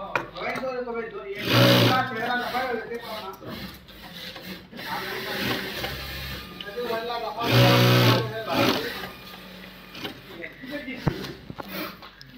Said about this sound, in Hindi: ये देखिए डबल सिलाई लग रहा है